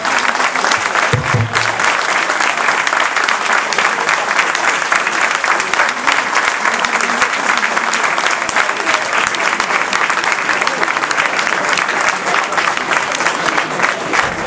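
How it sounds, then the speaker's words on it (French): Sustained audience applause for Kabir at a post-match event in Senegalese colours, a dense, steady wash of clapping from a large crowd lasting throughout. "je vous demande vraiment, sincèrement, 10 secondes d'applaudissements pour Kabir"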